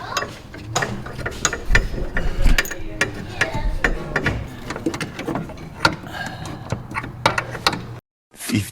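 Ratchet clicking in quick uneven bursts while tightening a lock nut, close and loud with metallic knocks and scrapes between strokes, ending in a brief silence and a final clatter.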